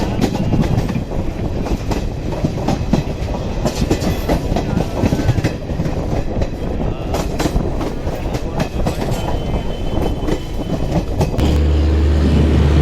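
The 22959 Vadodara–Jamnagar Intercity Superfast Express rumbles steadily along the rails after leaving Sabarmati station, with a continuous rattling clatter of wheels, loud and close throughout.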